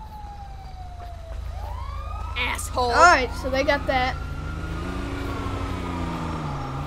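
Police car sirens in the video game GTA 5, a steady wailing tone rising and falling over a low vehicle engine rumble, with someone talking over them partway through.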